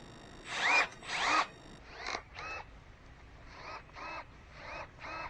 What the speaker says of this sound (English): as when cutting green wood, as you will see shortly, the Milwaukee pruning shear rarely slows down